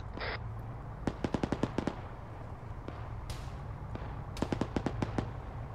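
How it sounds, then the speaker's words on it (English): Quick bursts of sharp gunshots crack in rapid strings, two volleys separated by a pause, over a low steady rumble, fairly distant, during a training exercise. "Shots heard ahead west."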